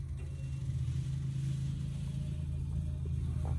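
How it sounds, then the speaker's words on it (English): A Freightliner truck engine idles in a shop during repair work, giving a steady, close, loud low rumble that holds evenly throughout with no talk. "I know the truck's making all kinds of noise, huh?"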